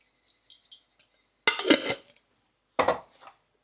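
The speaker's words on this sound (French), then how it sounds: "Je mets le couvercle" A lid is set onto a large saucepan of salted water on the stove, making two separate clattering metal-on-pot knocks with a short pause between them, close and fairly loud against faint background clinks.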